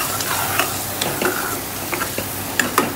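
Spices stirred and sizzling in a pan while cooking palak paneer, with steady frying hiss and several sharp scraping stirs of a utensil against the pan.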